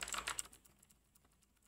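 Quick, close keystrokes on a computer keyboard, clustered in a brief flurry at the start and then thinning into a few faint scattered taps.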